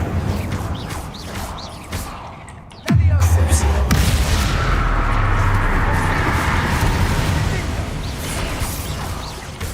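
An Incendio fire spell cast in Hogwarts Legacy, a sudden loud burst that settles into a sustained roaring, crackling rush, with a voice calling out just before amid game sounds.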